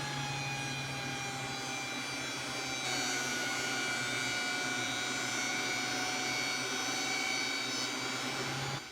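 A wood thickness planer runs continuously on a board with a loud, steady high-pitched whine and a droning roar, ending abruptly at the close.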